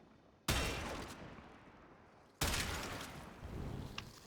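Two loud gunshots from a weapon in the video game Warframe, each a sharp blast with a trailing decay, spaced about two seconds apart, alone in a quiet background.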